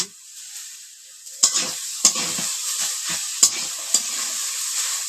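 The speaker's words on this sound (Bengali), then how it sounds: "বাঁধাকপি সবজি সবজিটা বানাচ্ছি" Cabbage is stir-cooked in a pan in a village kitchen, with a bright, hissing sizzle broken by repeated sharp spatula scrapes and clanks in an irregular rhythm.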